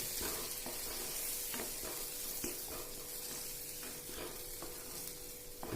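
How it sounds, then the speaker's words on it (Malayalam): Thick parippu (lentil) curry goes into a hot pan, setting off a steady close sizzle and frying hiss broken by soft scraping and stirring knocks, with no talking. "അതിനുശേഷം നമുക്ക് ഈ കറി ഇതിലേക്ക് ഒഴിച്ചു കൊടുക്കാം"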